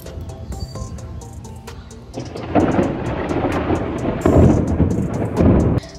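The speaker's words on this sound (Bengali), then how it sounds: "তো দেখলে কেমন বিদ্যুৎ চমকালো" Thunder rolls and cracks during a heavy rainstorm, with rain hissing steadily throughout and louder bursts of thunder arriving in the second half, close and full.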